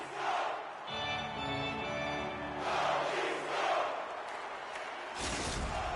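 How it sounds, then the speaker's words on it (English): A hockey arena crowd in the video game NHL 25 roars steadily throughout, a dense, loud wall of cheering with swells and a low sustained horn-like drone underneath. "You can feel the energy in this crowd."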